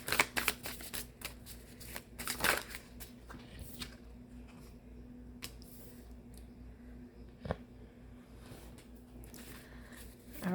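A tarot deck is shuffled close and quietly, with brisk riffling bursts near the start and a few scattered card flicks later over a faint room hum.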